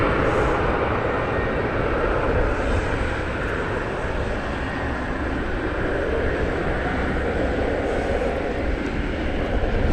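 A loud, steady roar from an airplane at DFW Airport holds unbroken throughout, with broad engine rumble and no pauses.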